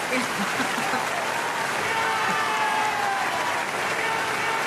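Sustained applause from a crowd, steady broadband clapping with some faint voices mixed in, lasting throughout.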